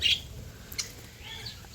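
Small cage birds chirping inside a crowded breeding colony cage of about thirteen pairs, faint scattered tweets and squawks over a low background hum.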